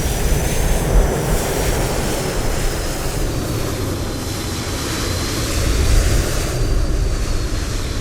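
Boeing 777-322/ER engines rumble continuously in a flight simulator as the airliner docks at the gate at San Francisco airport, a broad steady roar with a faint high whine drifting on top.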